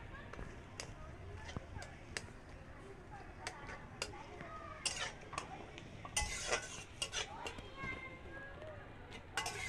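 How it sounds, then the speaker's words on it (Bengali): Ginger, garlic, onion and green chilli paste being stirred into boiling water in a pot, with steady scraping and occasional metallic clinks of the spoon against the pot under a voice talking throughout. "এটাকে ভালো করে নাড়িয়ে নেব"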